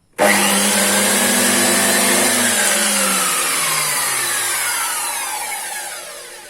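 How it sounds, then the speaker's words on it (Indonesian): A Fujiyama PP-9012 electric planer motor starts up and runs at a steady high whine, close and loud, gradually winding down in pitch toward the end. "Oke, mesinnya hidup."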